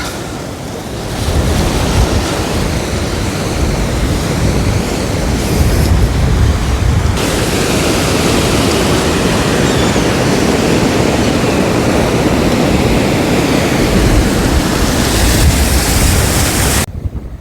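Sea surf rolls in at Langeron beach in Odesa on a winter day, a loud continuous wash of breaking waves heavily buffeted by wind noise on the microphone, with no voices.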